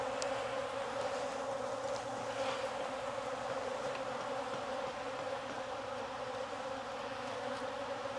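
Dense, steady buzzing of a great many honey bees from an opened hive with a cell builder and excluder, a continuous close drone that holds level throughout, with no talking.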